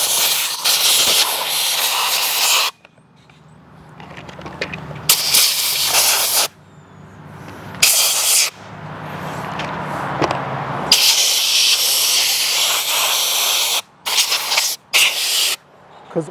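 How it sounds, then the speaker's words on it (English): Compressed air blasting debris out of a Husqvarna, Redmax or Poulan hedge trimmer: loud, broad hissing bursts, a long blast, then several shorter ones separated by quiet gaps, with a final run of quick short puffs. "Get this compressed air and just clean everything out."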